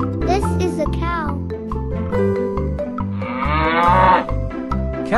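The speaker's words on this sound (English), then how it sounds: "This is a cow." A cow gives a single drawn-out moo of about a second, rising over upbeat children's music with a voice heard just before it.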